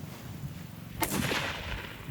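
A single sharp rifle gunshot cracks out about midway during recruit training, followed by a brief echoing tail against a faint background.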